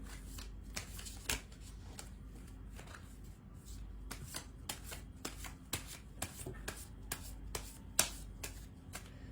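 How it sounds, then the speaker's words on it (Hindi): A deck of tarot cards is shuffled during a reading. It makes a quiet, close series of crisp snapping riffles and slaps, spaced irregularly over a faint steady background hum. "कार्ड को शफल कर लेते हैं ढंग से एक बार।"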